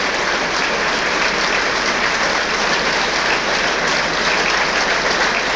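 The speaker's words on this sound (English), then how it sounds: "Good to see the York fans giving them a round of applause as well" York City football supporters applaud in a stadium at a National League North promotion final, a loud, steady wash of clapping that fills the whole stretch without a break.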